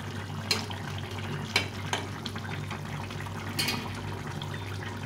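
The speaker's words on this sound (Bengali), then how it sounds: "এই ঝোলটাকে ভালো করে ফুটিয়ে নিতে হবে একটু মাছ দিয়ে, অনেকক্ষণ ধরে সুন্দরভাবে ফুটিয়ে নিতে হবে" Fish curry broth with winter vegetables and small fish simmering in a pot, a steady low bubbling wash with a few sharper splashy pops, close and moderately quiet, no talking.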